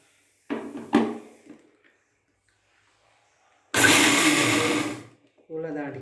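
A kitchen mixer jar grinding onion, green chilli and lentils for masala vada whirs in a loud burst of a little over a second, with speech before and after it.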